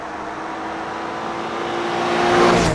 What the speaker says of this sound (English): If I really gun it in a corner at high speed, I am gonna feel that rear wheel spin.